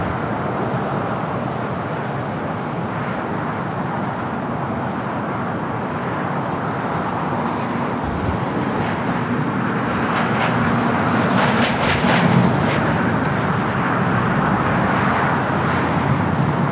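A Virgin Atlantic Airbus A350-1000 jet passes over Los Angeles International Airport on its way to London Heathrow, giving a steady broadband engine roar that swells slightly toward the end, distant but constant, with no talking.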